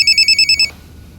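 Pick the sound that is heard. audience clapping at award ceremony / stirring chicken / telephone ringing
telephone ringing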